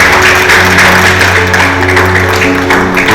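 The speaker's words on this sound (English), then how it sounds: "Everyone, let's hear it for Miss Sarata." Audience applause for Miss Sarata at a conference session on Africa's kernel export market, a steady close wash of clapping filling a hall for about three seconds with a faint hum underneath.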